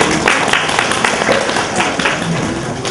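An audience claps in a church during a Saint Sava celebration, producing a dense, loud, steady patter of many hands that lasts throughout.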